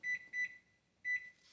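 A kitchen timer gives three short electronic beeps as it is set, two quick ones and then a third after a pause, close and clear with no talk.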